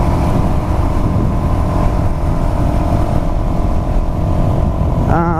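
A Suzuki DRZ 400 SM motorcycle engine drones steadily and loudly while riding on the road, a constant hum with wind rush and no change in pace, the throttle held even throughout.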